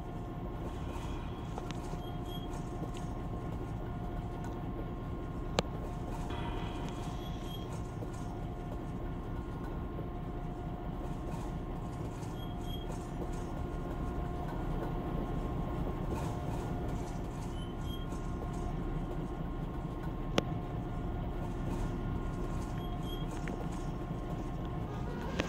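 Freight locomotives on the Lakeland & Black Valley Railroad rumble steadily throughout, a continuous low engine drone with faint clicking and a couple of sharp knocks near the start and end, with no talking.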